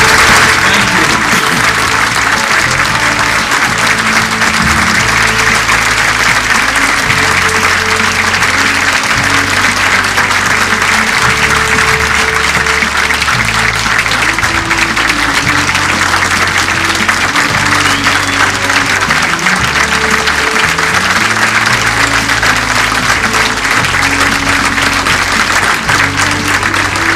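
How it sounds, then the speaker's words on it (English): Sustained audience applause for 54 students of a school excellence program at the close of a televised school program, loud and steady throughout, with music playing underneath. "one more round of applause for these 54 wonderful kids"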